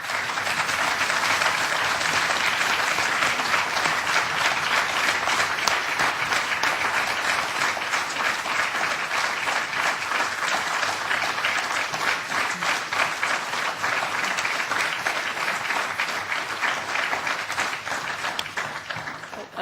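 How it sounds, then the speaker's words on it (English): Sustained applause fills a European Parliament committee room, dense, even clapping from many hands that holds steady for nearly twenty seconds before easing slightly at the end. "It's not very, very common that we have applause in this committee"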